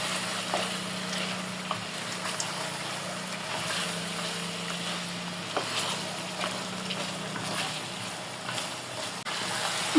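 Beef cooking with hand-ground spices, bay leaves and black pepper sizzles steadily in a pan as it is stirred, a constant close frying hiss broken by occasional scraping clicks, no voices.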